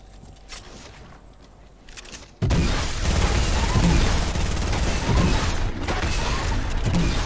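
Gunfire in the Fortnite video game, a loud, dense, continuous burst of shots that suddenly kicks in after a quieter stretch, with faint talk early on.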